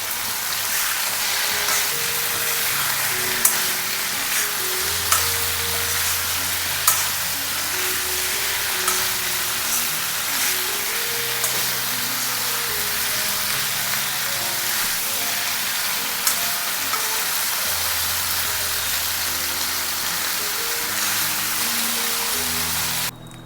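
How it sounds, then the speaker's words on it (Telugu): Chicken fry with fresh curry leaves sizzling steadily in a pan with a little oil, close and constant, with soft clinks and scrapes of stirring now and then over the continuous frying hiss. "సో ఇప్పుడు మొత్తం ఒకసారి కలుపుదామండి"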